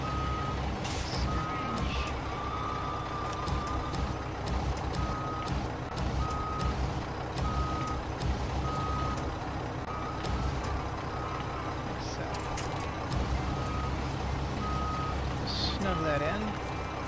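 Repeated reversing beeps from a Hummer truck backing up in the snowy off-road game SnowRunner, beeping at an even pace over steady engine rumble and game background noise.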